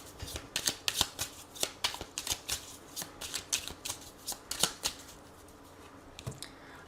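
Oracle cards being shuffled by hand, a quick run of crisp papery riffles and slaps in uneven bursts, close and fairly quiet, with no talking.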